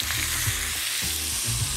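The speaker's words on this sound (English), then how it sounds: "we're gonna go right with our turkey breast to the pan. We're gonna go skin side down" Turkey breast searing skin side down in a pan of clarified butter: a steady, close sizzle and crackle with soft pulsing bubbles, continuous and without voices.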